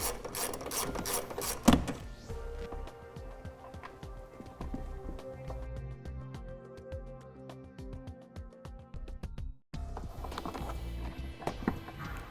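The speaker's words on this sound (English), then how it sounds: "we're going to go ahead and remove this nut here so that we can pull our wires in behind it" A ratchet wrench clicks rapidly while loosening a nut on a 2013 Toyota car, with metallic ratcheting bursts and tool knocks running close and loud throughout, briefly pausing before resuming.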